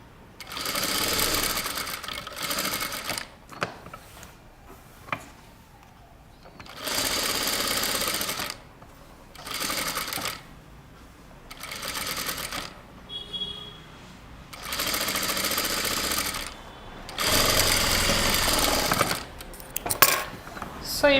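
A sewing machine stitches a kurta in repeated bursts of rapid mechanical whirring a few seconds long, separated by short quiet pauses and soft handling clicks, close and clear.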